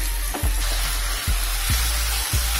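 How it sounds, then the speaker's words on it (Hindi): Onion paste fries loudly in a pan for mushroom do pyaza, a close, constant sizzling hiss broken by four regular scraping strokes of a spoon. "अब ये जो प्याज वाली पेस्ट थी हम वो ऐड कर देंगे, और अच्छे से प्याज ब्राउन होने तक इसको पकाएंगे हम।"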